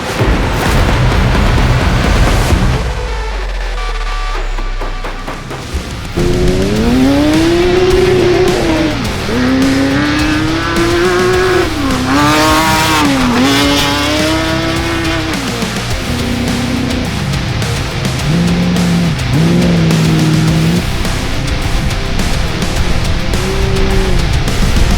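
Race cars at the Bencubbin 400 prologue, a short 18-kilometre off-road stage, roar past loudly with rising and falling engine pitch and revving throughout, along with some tyre noise.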